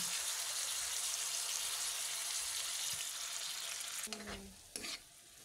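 Pancit canton noodles frying with soy sauce hiss in a loud, dense, continuous sizzle up close. The sizzle drops away near the end, leaving a couple of short knocks and a quieter background.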